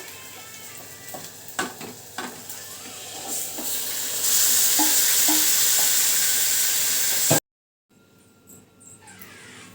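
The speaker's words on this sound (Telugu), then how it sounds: "ఆనియన్స్ అయితే ఫ్రై అయిపోయిందండి. ఇక్కడైతే చికెన్ వేసేస్తున్నాను." Chicken dropped into a pan of fried onions bursts into a loud, steady sizzle after a few scrapes and stirs, holding strong for several seconds before cutting off abruptly, then quieter kitchen sounds follow.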